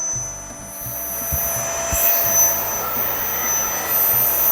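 A Hitachi vacuum cleaner with an overheating fault runs on a workshop bench, its motor giving a loud, steady whine and rushing airflow with slight swells in level throughout.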